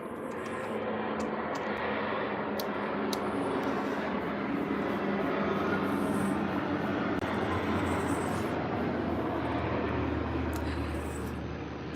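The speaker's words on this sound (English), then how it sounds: "there's a plane coming." An airplane flies over with a steady, broad engine roar that holds level throughout, fairly distant and unbroken, with no clear talk over it.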